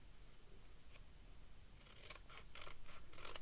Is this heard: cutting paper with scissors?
yes